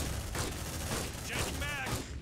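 Weapon fire crackles in the sci-fi game Aliens: Dark Descent, a dense rapid volley of shots and thumps mixed with game sounds, with a voice briefly speaking over it.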